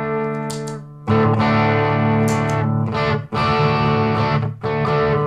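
Electric guitar chords through a gritty, overdriven boost pedal, ringing in sustained strums with short breaks between phrases.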